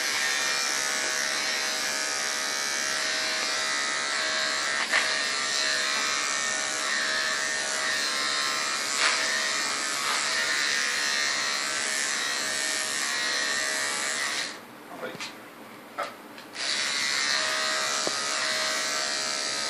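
Electric clippers shaving a bear's fur, a loud continuous close buzz that briefly drops away near the end before resuming.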